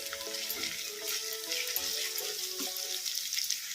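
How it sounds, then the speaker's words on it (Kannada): Onion and spinach fry in a pan on medium flame, giving a steady close sizzle with soft stirring scrapes running throughout. "ಉಳ್ಳಾಗಡ್ಡೆ ಸ್ವಲ್ಪ ಫ್ರೈ ಆಗೋವರೆಗೂ ಕಲಸ್ಕೊಂತ ಫ್ರೈ ಮಾಡೋಣ ಮೀಡಿಯಮ್ ಫ್ಲೇಮಲ್ಲಿ ಇಟ್ಕೊಂಡು"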